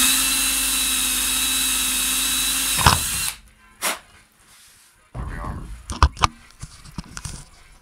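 A high-speed drill bit bores through very soft metal while reworking a Singer sewing machine motor, a loud steady whine for about three seconds that stops abruptly, followed by scattered clicks and knocks of handling.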